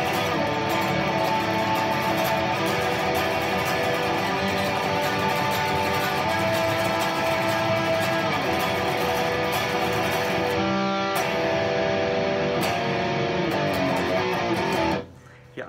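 Distorted black metal electric guitar riff mixing minor and major chord shapes, a dense, buzzing wall of sustained tremolo-style chords played steadily and alone before cutting off at the end.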